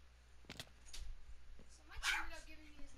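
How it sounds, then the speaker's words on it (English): Dogs barking at home, a few sharp barks and yips scattered through the clip at moderate distance, with quieter whimpering sounds between them. "And I can hear my dogs barking"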